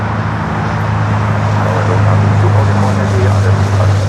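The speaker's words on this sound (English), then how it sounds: "this Delta 767 at 300 yard touches down here on the south side" A Delta Boeing 767 arriving from Atlanta touches down on the south side at LAX, a loud, steady low engine rumble and roar filling the air, with voices talking over it.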